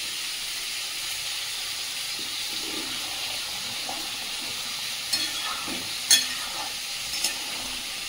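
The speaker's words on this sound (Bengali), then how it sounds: "ট্যাংরা মাছটা দিকে ভেজে নিচ্ছি।" Tangra fish fry in a pan with a steady soft sizzle, punctuated by a few sharper spatters and clinks toward the end, close and moderately quiet.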